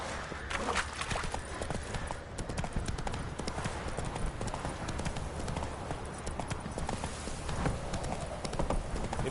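The horse Roach galloping in a PS4 video game, a rapid, continuous drumming of hoofbeats in a steady rhythm, close and even across the whole stretch.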